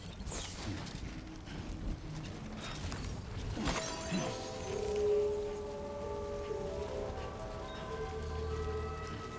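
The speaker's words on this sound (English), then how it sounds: "Instantly raining." Rain in the video game Death Stranding 2, a steady wash of falling water with a sharp crash near the middle, followed by sustained tonal music or ambience layered over the downpour.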